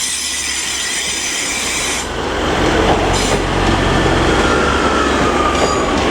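A British Rail Class 185 unit pulls out of Leeds station, its wheels squealing and rumbling loudly over the rails as the engine noise builds, with no voices.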